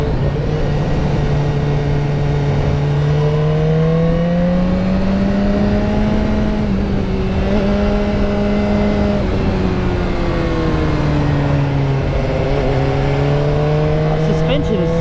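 A BMW S1000R sports motorcycle runs with its engine droning steadily and loudly, the revs rising and falling through shifts as it rides along under wind noise.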